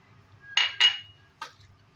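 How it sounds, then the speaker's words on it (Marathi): Spoon scraping and clinking in a bowl as chopped sweet corn bhel with onion and red chilli powder is stirred, two quick bright clatters close together then a third, close and fairly loud over quiet background. "हे चांगलं हलवून घ्यायचं, कांद्याला लागू द्यायचं।"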